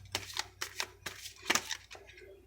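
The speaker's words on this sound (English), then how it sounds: "And I'm shuffling with Quinn on my arm." Tarot cards are shuffled in a series of soft, quick riffling bursts close by, with light background sounds in between.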